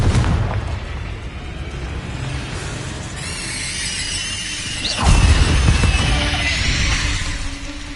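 A Confringo fire spell bursts in a Harry Potter video game, a sudden booming explosion at mid-clip that rolls on over rumbling game effects and ambience.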